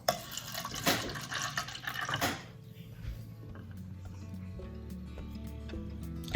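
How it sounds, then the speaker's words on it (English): Water poured onto a seedling's soil, a short splashing trickle for about two seconds that tapers off into faint drips and quiet background. "I can give it a little bit of water"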